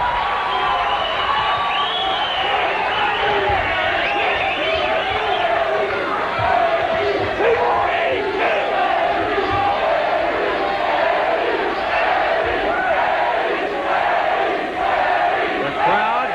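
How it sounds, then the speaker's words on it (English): A capacity boxing crowd at the Westin Peachtree Plaza in Atlanta roars and cheers for hometown fighter Eddy Jones during a 1986 bout, sustained loud yelling and whoops swelling in waves, with a commentator's voice woven through the din. "The crowd getting behind their hometown hero, Eddy Jones."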